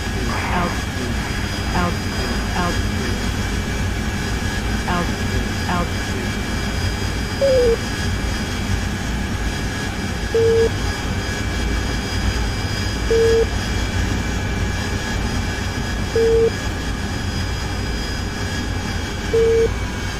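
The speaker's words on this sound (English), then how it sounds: "Francis is taking runway 22 for takeoff" A jet aircraft on runway 22 during takeoff in the DCS World flight simulator: a steady, loud engine roar with faint tonal whine runs throughout, and a few short electronic beeps sound over it.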